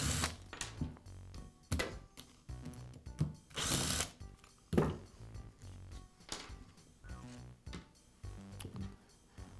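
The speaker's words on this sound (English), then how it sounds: "Now I'll remove the 3 bolts that secure the gearbox to the housing." A power driver backs out the bolts that hold the gearbox to the housing of a Porter Cable drywall sander, sounding in short buzzing whirs and ratcheting bursts separated by brief pauses.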